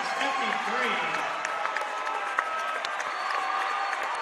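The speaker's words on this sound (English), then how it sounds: "we'll let you listen to the crowd" Crowd cheering and applause fill a gym after Marion's 56-53 win over Bishop Luers in an IHSAA sectional girls basketball game, a steady wash of distant voices and claps with whistles and shouts cutting through and some talk mixed in.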